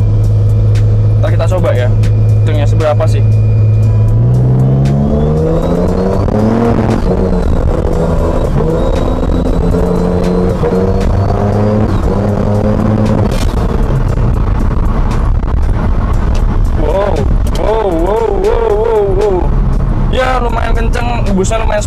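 Galant VR4 with a Tiptronic automatic transmission accelerating hard, the engine note climbing through rising gear sweeps and dropping at shifts, loud and close, with a person talking over it toward the end.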